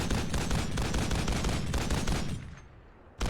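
A .50 cal machine gun in a video game fires a long, loud, sustained burst of rapid shots that runs unbroken for over two seconds, then drops away before one final sharp blast.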